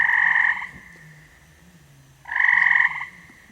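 A frog sound effect with two loud, buzzing croaks separated by a quiet gap of nearly two seconds, close and clear, with a faint low hum in between.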